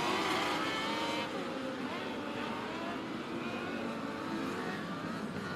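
Dirt race cars circling a track during a caution period, a steady, fairly distant roar of several engines with no voices over it.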